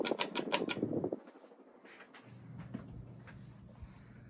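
A 52-inch Fasco Gulf Stream (Hasley) ceiling fan, a basic 1990s builder model, winds down with a faint whirring hum after some brief ticking and clicking at the start.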